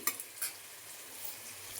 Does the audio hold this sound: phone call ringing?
no